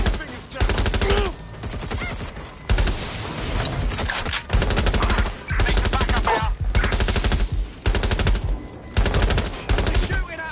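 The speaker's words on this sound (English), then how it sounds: "They're shooting at us." Enemies fire in Watch Dogs: Legion with loud, close bursts of rapid automatic gunfire, broken by short pauses and running nearly throughout.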